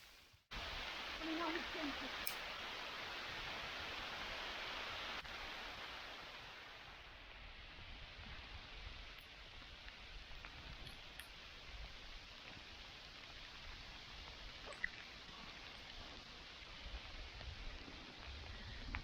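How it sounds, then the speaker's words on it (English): Hailstones fall around a tree sheltering people in Doneraile Park, Ireland, making a dense, continuous patter that is loud at first and then settles into a softer, steady hiss. "Now we're stuck in under a tree, hiding from hailstones."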